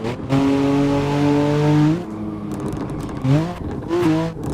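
A BMW E93 Cabrio's engine in the racing video game Assetto Corsa roars at a steady high pitch, drops off abruptly, then revs up again in short bursts as gears change.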